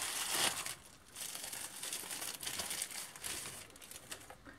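Crinkling plastic packaging rustles continuously at close range, with a louder burst at the start and steady handling noise throughout.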